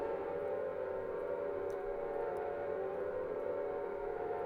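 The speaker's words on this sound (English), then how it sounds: "Uh-oh, the sirens." A steady, droning siren wails continuously against a dense, rumbling background in the video game Silent Hill on PlayStation, sustained and loud with no pauses.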